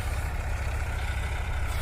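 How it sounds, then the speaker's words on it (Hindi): A red Massey Ferguson tractor engine running steadily during wheat sowing with a seed drill, a loud, low continuous rumble close by, without talk. "अब ये देखिए, मेरे ट्रैक्टर है मैसी फार्गूसन रेड कलर में।"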